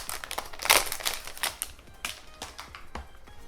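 A small plastic-wrapped Pokémon card portfolio being opened by hand: close, crisp crinkles and sharp taps of plastic wrap, one loud burst of rustling, then scattered lighter crackles.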